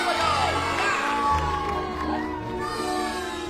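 A crowd of children cheers and shouts excitedly, loud and sustained, with whoops rising over a dense wall of voices.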